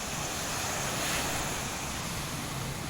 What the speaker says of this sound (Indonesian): Gelombang laut inilah yang menyebabkan terjadinya abrasi di lahan di tepi pantai.